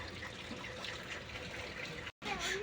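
Water keeps running steadily across a farm site near a tractor and trolley during a Farmtrac 6055 tyre change, a continuous close trickling wash with a brief dropout near the end.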